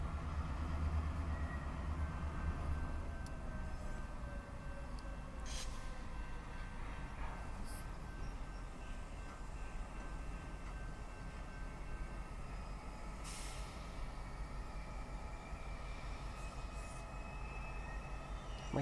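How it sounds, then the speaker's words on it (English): A CSX local freight train in Owensboro rolls in with a steady low diesel rumble and a faint sustained tone, a distant horn or wheel squeal, all continuous and fairly quiet with no talking. "Here comes the train."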